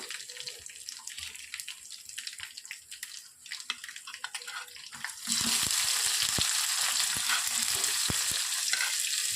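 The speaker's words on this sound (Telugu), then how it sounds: "ఇప్పుడు కొన్ని పోపు గింజలను వేసుకున్నాను." Tempering seeds and garlic frying in hot oil for palak dal, a quiet crackle with scattered pops that suddenly swells into a loud, dense sizzle and keeps hissing steadily close by.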